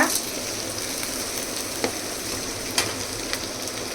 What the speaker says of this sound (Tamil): கைஸ், நல்லா இப்படி நல்லா வதக்கி விட்டுக்கோங்க